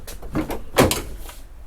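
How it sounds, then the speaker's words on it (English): Car doors on a 1996 Chevrolet Caprice are opened in a garage paint shop, with a few close clicks and clunks of latches and hinges, the loudest thunk near the middle. "So we're gonna open these doors"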